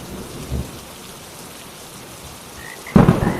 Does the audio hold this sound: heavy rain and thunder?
yes